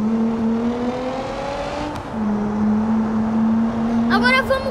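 A car in BeamNG.drive accelerates, its engine tone climbing steadily and holding a loud drone, with a brief dip midway and a harsher rise near the end; a voice talks over it.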